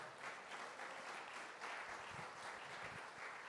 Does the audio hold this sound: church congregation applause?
yes